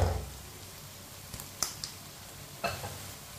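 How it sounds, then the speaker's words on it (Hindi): Spices cooking in a pan on high heat make a quiet, steady sizzle, with a few soft stirring clicks and scrapes scattered through it and no voices. "मसालों को मैंने 1 मिनट के लिए पका लिया है"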